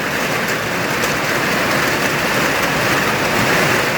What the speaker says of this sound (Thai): ฝนตกไปชั่วหน่อยนะครับผม